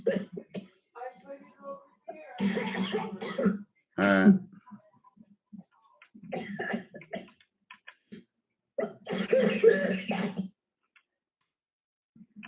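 A few rough coughs and throat-clearing bursts come in short clusters, separated by quiet gaps, close to the mic.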